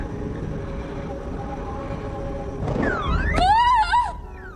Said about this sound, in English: It's just a car alarm. The wind set it off.